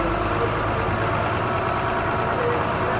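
A passenger launch boat's engine runs as it departs from Namkhana toward Benubana, a steady low rumbling drone with broadband churn, close and continuous throughout.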